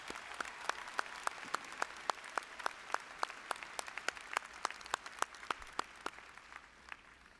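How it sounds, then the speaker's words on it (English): Sparse, steady clapping at a university commencement for four doctoral graduates, individual hand claps ringing out distinctly in a large hall, fairly faint and distant with no talking. "please join me in another round of applause for all 4 of these doctoral graduates"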